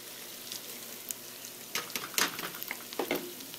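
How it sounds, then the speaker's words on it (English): Onions, shallots and peppers sautéing in oil for stuffed peppers, a soft continuous sizzle broken by louder clattering stirs and pan scrapes in the second half. "You're sauteing everything."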